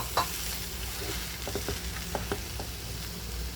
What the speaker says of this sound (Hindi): अभी बटाटो डालेंगे और बटाटो डाल के अच्छे से भुनेंगे